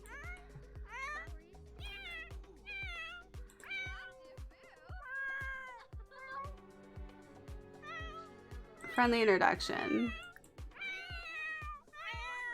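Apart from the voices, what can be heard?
cats meowing in The Sims video game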